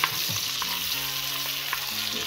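Sausage and cabbage frying together in a pan, a steady close sizzle with scattered crackles and pops and occasional stirring scrapes, continuous with no talking.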